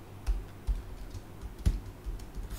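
Quick irregular keystrokes on a computer keyboard while code is entered, a few sharper taps standing out, close and clear with no voices.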